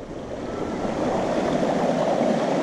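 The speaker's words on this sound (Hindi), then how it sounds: "ये काफ़ी खूबसूरत झरना, पहाड़ों का पानी" A mountain waterfall in dense forest near Rishikesh rushes steadily, a loud, continuous broad roar of falling water that swells slightly and carries no voices.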